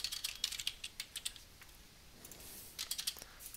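Computer keyboard keys tapped while working in 3ds Max modeling software, quiet irregular clusters of light clicks with a short pause in the middle, no speech.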